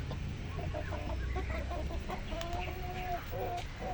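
Rhode Island Red hens and roosters clucking close by in a farm yard, overlapping calls over a steady noisy background.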